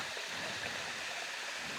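Steady broadband rush of river water flowing over a rock formation in Burgos, La Union, a continuous wash with no talk.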